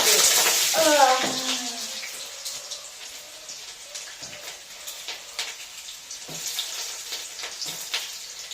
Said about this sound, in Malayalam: ആ ചൂടായ എണ്ണയിലേക്ക് നമുക്ക് സവാള അരിഞ്ഞിട്ട് വെക്കാം.